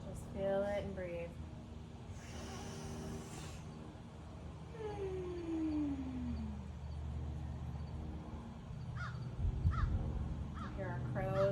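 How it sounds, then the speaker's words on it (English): Crows caw outdoors behind a group, their harsh calls bursting at the start and again near the end. A steady low rumble runs underneath and sparse tonal sounds drift through the middle. "Here are crows behind us, talking to us"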